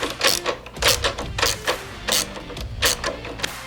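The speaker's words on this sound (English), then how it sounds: "get it in there finger tight, get it in as high as you can, and then grab your socket" Socket wrench ratcheting on a nut on a 2020 Harley Davidson CVO Road Glide during a riser and handlebar install, a series of close, sharp mechanical clicks in irregular bursts, with no talking.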